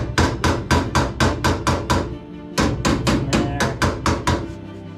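Hammer knocking a dent out of a VW Bus body panel, loud close metallic blows in quick steady runs of about nine strikes, a short pause, then another run, with no talk.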